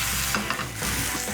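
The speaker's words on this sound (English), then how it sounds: "you can hear it sizzling" Steady, loud sizzling of meat frying in a pan, a continuous crackly hiss close up with faint stirring scrapes.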